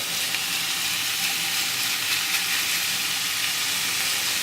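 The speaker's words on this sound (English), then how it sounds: "Just begin to sizzle through now a little bit." Minced beef for chilli sizzling in a hot frying pan, a constant close crackling hiss with no pauses and no voices.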